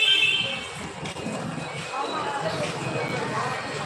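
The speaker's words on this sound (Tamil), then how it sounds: "Mayiladuthurai railway station" At Mayiladuthurai railway station, a train rumbles with a faint buzzer-like tone amid busy platform ambience, while a person talks nearby throughout.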